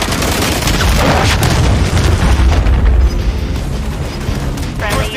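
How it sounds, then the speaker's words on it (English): A cruise missile blast in a first-person military shooter game, a loud, sustained low boom with rumbling debris lasting several seconds, with game voice callouts faintly in the mix. "Hostiles launched a cruise missile."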